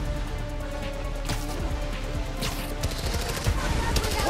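Rapid bursts of automatic gunfire in the video game Marvel's Spider-Man: Miles Morales crackle continuously at a steady distance, with scattered louder single shots layered over a constant low rumble.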